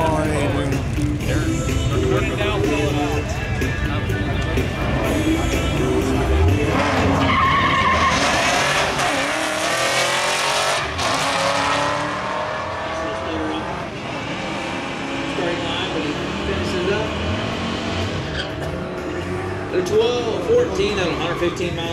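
Two Ford Mustangs drag racing at a strip, a loud sustained roar of engines and tire noise filling the whole stretch, with an announcer and crowd voices running over it throughout.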